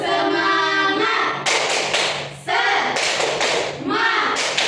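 A primary school class does a rhythmic spirit-clapping game, with bursts of many hands clapping together in a loose beat among children's chanting voices in a classroom.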